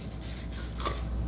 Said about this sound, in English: So I'm just making some slices through the skin